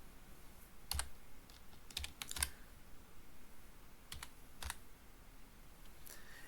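Code typed on a computer keyboard in RStudio, sparse soft key clicks in small clusters, close and quiet over a faint room hiss, no talking.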